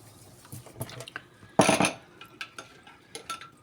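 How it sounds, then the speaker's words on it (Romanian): Water is poured into a pot of Banat-style potato stew with fresh sausage and flour dumplings, a brief splashing burst of about half a second amid soft kitchen clatter and taps. "De aici pot să mai pun un pic de apă."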